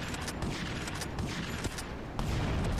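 Dense explosions and rapid gunfire from the video game Grand Theft Auto: Liberty City Stories form a loud, continuous barrage with sharp bursts throughout.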